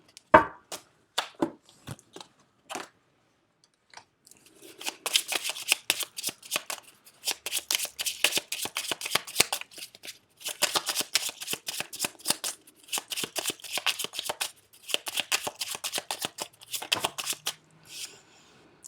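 Petit Lenormand cards being shuffled for a reading, a few sparse flicks at first, then long bursts of rapid crisp riffling with short pauses, close and clear with no talking.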